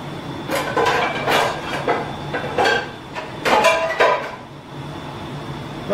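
A frying pan is set down onto a makeshift stove in a hut while tomato sauce for spaghetti simmers, giving a few close metallic clanks and scrapes spread across several seconds.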